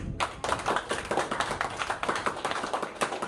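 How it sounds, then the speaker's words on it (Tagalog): A church congregation claps in praise, a dense run of close, sharp hand claps falling into a fairly regular quick rhythm for the whole stretch. "pumalakpak sa Diyos"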